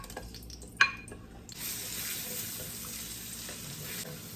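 Ginger, garlic and arbol chilies hit a hot frying pan with a sharp clatter, then settle into a steady, close sizzle that carries on evenly with no voices.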